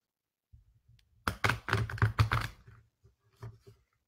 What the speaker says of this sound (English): Spirits tell me to give these cards a better shuffle.